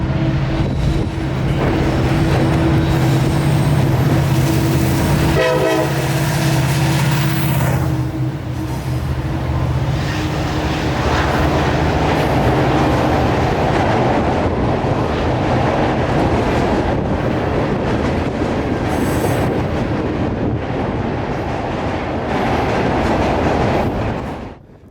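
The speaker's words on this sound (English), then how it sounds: "With an EMD leader screaming north through Dalton" A CSX freight train with an EMD lead locomotive rolls north through Dalton, hauling empty ethanol tank cars. Loud and close, its steady rumble carries rhythmic clickety-clack over the rails, with wind buffeting the microphone and no voices.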